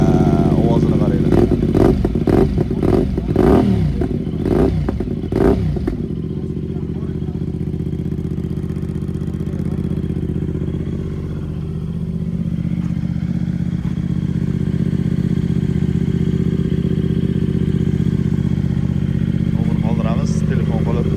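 A 2025 CFMoto 450 SR motorcycle with 9,655 km on it starts and runs. Loud revving bursts come first, then the engine settles into a steady, close idle that continues to the end.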